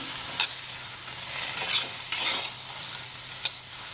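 Black ghevda beans dry roasting in a pan, with a few sharp scraping stirs of a spatula over a faint steady background and no voices.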